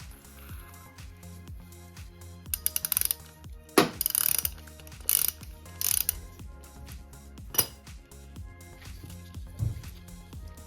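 A 5/8 socket ratchet loosens the canister of a heating oil filter on a boiler or furnace, giving close clicking pawl ratchets in short uneven bursts with occasional metallic clanks.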